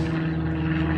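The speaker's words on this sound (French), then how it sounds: "On a un avion." A propeller airplane drones overhead during an outdoor bike repair, a steady, loud, low engine hum filling the whole moment with no break.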